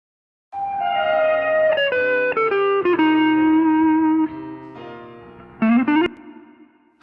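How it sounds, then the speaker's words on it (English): Electric guitar with reverb added, playing a descending melodic phrase whose notes ring out and trail into a decaying tail before a final short flourish, with no voices. "let's add a little bit of reverb"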